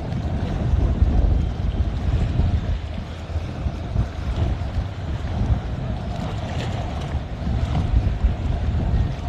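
A boat motors past on Haulover Inlet in Bal Harbour, Florida, a low engine rumble mixed with wash and gusts of wind noise, fairly steady with swelling surges.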